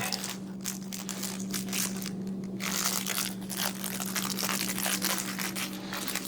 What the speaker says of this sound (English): If I can open the bag here.